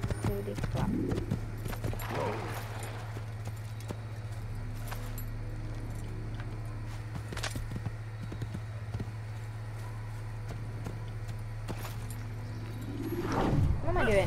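Horse hooves in an Assassin's Creed game, a steady clip-clop under a constant low hum, with a person talking over it and a louder passage near the end.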